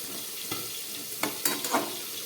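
Vegetables simmering in a covered pan for a fish-head chhyachra, with a soft sizzle and a few scraping stirs of a spatula after the lid comes off, close and moderately loud, no talking.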